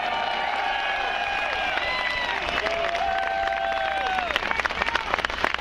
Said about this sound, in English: A round of applause for those vets out there today.